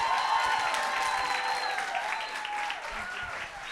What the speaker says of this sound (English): Please give a large round of applause for Congresswoman Alexandria Ocasio-Cortez.